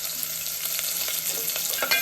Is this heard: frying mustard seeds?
yes